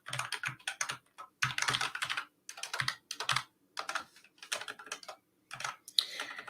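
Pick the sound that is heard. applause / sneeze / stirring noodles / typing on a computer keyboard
typing on a computer keyboard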